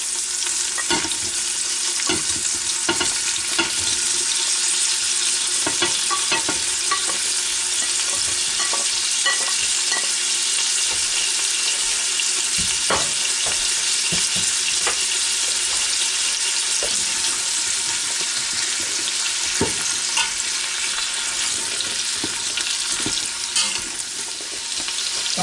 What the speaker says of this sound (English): Okay, that's starting to sizzle